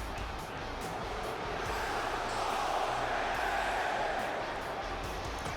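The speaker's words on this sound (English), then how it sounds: "The crowd here in Chicago is all behind Adam Cole as well." A large arena crowd in the WWE 2K19 wrestling video game, at an NXT Takeover event in Chicago, keeps up a steady, dense roar of cheering and noise throughout, with voices partly under it.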